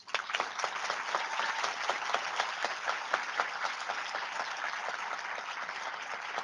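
Broad, sustained applause from a large audience fills a formal ceremony for the swearing-in of appellate judges, steady and even at a moderate distance.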